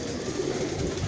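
A Rampuri pigeon coos, a soft low throaty murmur held for about a second against steady background noise.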